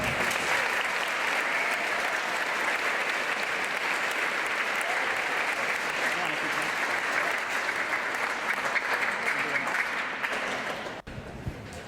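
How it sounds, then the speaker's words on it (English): A dense, steady round of applause from a large crowd at a junior high school event, loud and continuous for about eleven seconds before it thins out at the very end. "Give the JMG folks a round of applause."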